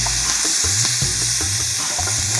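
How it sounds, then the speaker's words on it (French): Shrimp and crouton skewers sizzle in butter in a hot pan, a steady loud frying hiss with small pops and crackles throughout, close up and without talk. "on va partir avec une petite noix de beurre, comme ça. Puis on va juste déposer nos brochettes, comme ça."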